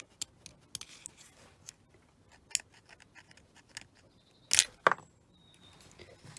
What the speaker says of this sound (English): so we'll just scratch that off.